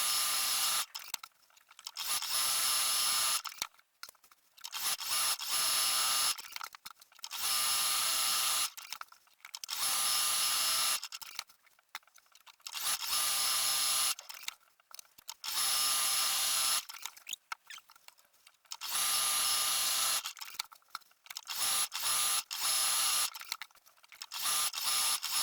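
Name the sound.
sewing machine quilting a tote bag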